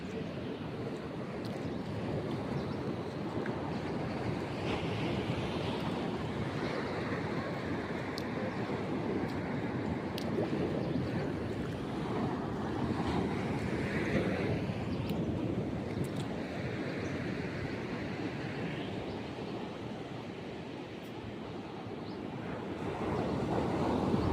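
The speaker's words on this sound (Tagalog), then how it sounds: "Ang lalakas ng alon" Steady, heavy roar of surf with wind buffeting the microphone, a continuous loud wash of crashing waves and no voices.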